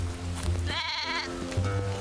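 A sheep gives a single wavering bleat in the video game Drova: Forsaken Kin, clear and close, set against a low steady game hum and soft background sounds.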